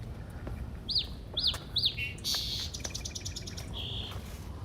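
A small bird chirping outdoors near Venice and Santa Monica beach, several sharp, clear high chirps in a quick series followed by more scattered tweets, fairly close over a low background hum.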